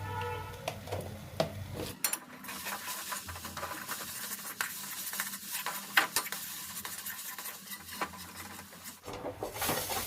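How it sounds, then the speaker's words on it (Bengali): Ground spices (coriander, cumin, turmeric and chilli powder) fry in oil in a pan while being stirred, giving a quiet dry sizzle with repeated scraping and clinking strokes throughout. "দেখো এটাকে 3-4 মিনিট একটু ভাজলাম, পুরো শুকনো হয়ে গেছে।"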